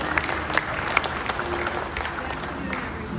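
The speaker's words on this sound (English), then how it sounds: "Give her a round of applause." A crowd at the Chrysler Carlisle Nationals car show applauds the Chrysler CEO, with steady, dense clapping from many people spread across an open venue, a few sharper claps standing out near the front.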